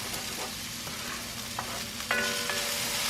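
Onions sauteing in a hot pan give a steady close sizzle and crackle, with scattered spoon or utensil taps and a brighter burst of frying noise near the end.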